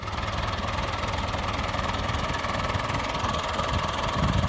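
A John Deere tractor engine idles steadily, a low rough continuous rumble with a faint knocking pulse, heard close and alone.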